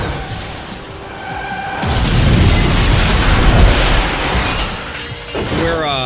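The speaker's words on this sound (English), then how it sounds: "We're kind of an explosion alley right now" A loud burst of crashing, shattering blasts erupts and rumbles for a few seconds in the racing game Split/Second, with game sounds and faint tonal effects before and after.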